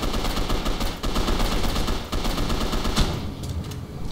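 Sustained automatic machine-gun fire in the game Gotham City Impostors, a dense rapid stream of shots running for several seconds, loud and close, with a brief break near the end and no speech over it.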